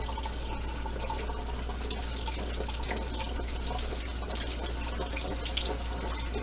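A pot being scrubbed under a running tap, water splashing and trickling continuously with faint scraping textures over a low steady hum, close by and without speech.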